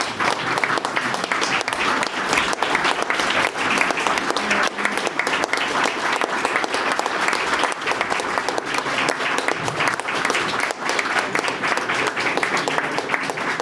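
An audience at a Veterans Day ceremony in Teaneck claps for the veterans standing to be recognized, a thick, even wall of applause that holds loud and unbroken throughout.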